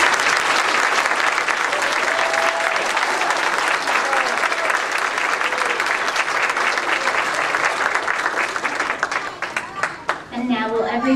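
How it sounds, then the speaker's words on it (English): Sustained, dense applause from an audience honoring new inductees of the National Society of Leadership and Success at a college induction ceremony, loud and steady throughout before thinning near the end as a voice begins to speak. "join me again in applauding all of our new inducted members"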